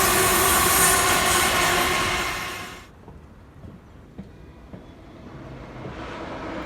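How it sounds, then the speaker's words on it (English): A Class 350 passenger train on the fast lines of the West Coast Main Line rushes past loudly and close, a broad roar that cuts off abruptly, leaving faint rail clicks and distant rumble. "A Class 350 train heads north on the fast lines."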